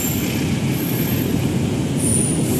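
Argo Cirebon passenger train hauled by a CC206 locomotive departing a station on the Gambir–Tegal line, a steady loud rumble of rolling wagons with faint wheel squeal, heard alone.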